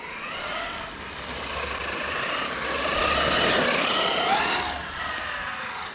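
A hobby RC car built from a Velociraptor kit with a 1000kv motor and Castle X8s controller screams at high throttle, a loud sustained whine that rises and falls as it passes, with no talking.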